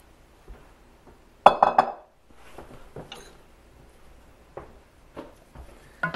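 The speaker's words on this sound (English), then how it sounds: "So all we're going to do is dump in all of our veggies." Pre-cooked spring vegetables tipped into a pot of lamb stew, a short clattering tumble with clinks against the pot, followed by sparse light knocks, near and without talk.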